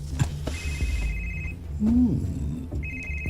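A cellphone rings indoors with a high electronic tone, sounding twice in short bursts at moderate loudness against quiet background noise and a brief low voice.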